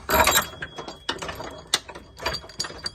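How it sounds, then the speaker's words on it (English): A jack raises the rear of a Dodge Challenger during a lowering-spring install, and a suspension bolt is threaded in: close, uneven metallic ratcheting clicks and clunks in short bursts, with no talking. "all you got to do now is just jack it up"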